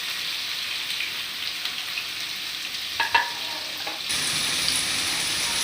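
Onions and green chillies fry in a pan with a steady, close sizzle, a few clinks of stirring near the middle, then the hiss grows louder and brighter toward the end; no one speaks.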